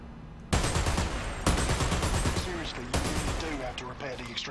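Video game Dirty Bomb gunfire, loud rapid bursts of automatic shots starting abruptly and repeating in several long volleys, close and dense.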